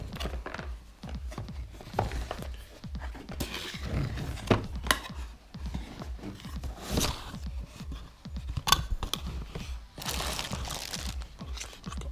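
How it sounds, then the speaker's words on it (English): Unboxing a TPMS tyre pressure monitor kit with colour display and solar charging: close, irregular rustling, crinkling packaging and light thunks of parts being handled, with no talking. "Just going to unbox it now."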